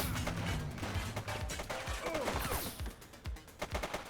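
Gunfire in The Precinct, a police game: quick bursts of sharp shots over street noise at moderate distance, with scattered impacts.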